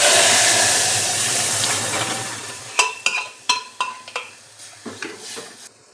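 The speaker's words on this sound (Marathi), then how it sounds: "चला डाळ टाकून देऊया आपण." Dal tipped into sizzling masala with curry leaves for sambar, a loud hiss fading away, then a spoon scraping and knocking against the pot several times in an uneven rhythm.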